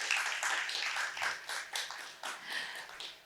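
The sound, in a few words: audience applause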